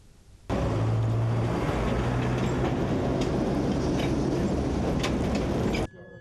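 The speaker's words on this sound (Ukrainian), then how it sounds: "Для перевірки колією на Личаківській запустили 2 трамваї – вагон «Татра» та «Електрон»." Tatra and Elektron trams on a test run along the Lychakivska track in Lviv: a steady, loud rolling rumble of a passing tram, with rattles and faint clicks over the rails, starting and stopping abruptly.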